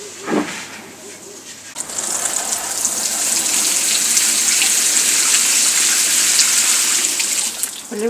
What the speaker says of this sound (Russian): Теперь можно поливать ее.